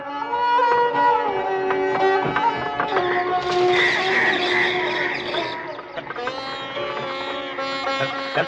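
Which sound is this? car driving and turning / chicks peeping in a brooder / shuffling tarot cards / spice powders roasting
car driving and turning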